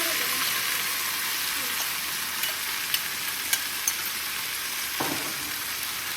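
Beef fries in a pan with a steady, fairly quiet sizzle, broken now and then by soft clicks and the scrape of stirring, and no voice over it.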